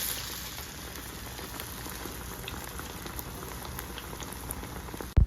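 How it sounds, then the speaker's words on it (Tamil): Paruppu vadai, South Indian lentil fritters, frying in hot oil, a steady dense crackle and sizzle like light rain, with a sharp knock at the very end. "இப்போ வடை வெந்துட்டுருக்குது."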